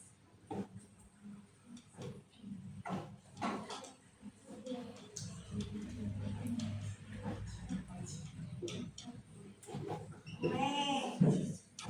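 A goat bleats with a wavering, quavering call near the end, after a stretch of people talking and murmuring in the background.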